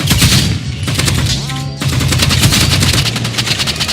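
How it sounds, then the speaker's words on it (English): Rapid automatic assault rifle and Exogun fire in the video game Rivals, loud, dense bursts of shots running almost continuously, with a short rising tone partway through. "I ran out of ammo on my assault rifle, so I moved to Exogun and I just killed it."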